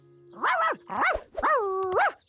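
Four loud, close, tonal barks in quick succession from a cartoon dog stuck up a tree in the Polish-dubbed Curious George series, delivered alone with no talking.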